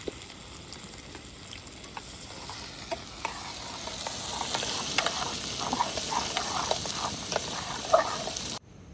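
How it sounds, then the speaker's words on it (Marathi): Onion frying in hot oil for egg biryani gravy outdoors in the hills, a steady hissing sizzle that builds gradually, with scattered light ticks and stirring clicks, no speech. "कांदा व्यवस्थित आपल्याला लाल होसपर्यंत भाजून घ्यायचा आहे व्यवस्थित."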